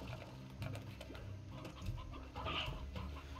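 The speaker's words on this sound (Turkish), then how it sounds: "Bir sürü tavuk." Chickens clucking in the video game Slime Rancher, a few faint, short clucks and scattered game sounds at low level, no talking.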